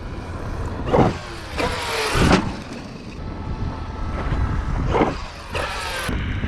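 A Traxxas X-Maxx RC truck, widened WideMaxx version, runs on loose gravel: whining electric motor with crunching gravel bursts that swell and fade repeatedly over steady background noise, no talking.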